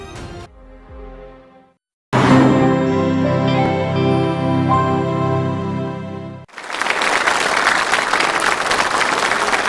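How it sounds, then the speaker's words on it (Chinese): Applause from a television studio audience on a talk show breaks out suddenly after a spell of music and keeps going, loud and dense. "谢谢谢谢谢谢大家热烈的掌声"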